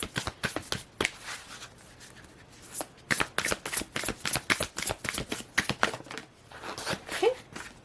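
Tarot cards are shuffled by hand, with quick riffling flutters and soft slaps repeating in uneven bursts at close range and no speech.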